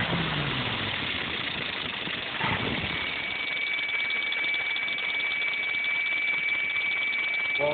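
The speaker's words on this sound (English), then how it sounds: "Pulls right back down to a low RPM idle." Kawasaki 636 motorcycle engine idling at low RPM after a brief rev settles: a steady, close, even mechanical putter with a faint rattle throughout and no voices.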